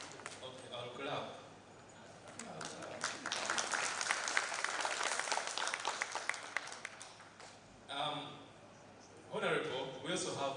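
Scattered clapping from an audience at a strategy launch event swells for several seconds, then stops, with brief bursts of talk or clapping before and after.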